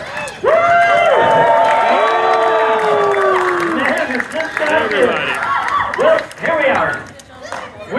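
Circus show audience cheering and whooping with some clapping, loud and continuous, with shouts rising and falling over a crowd roar and a brief dip near the end.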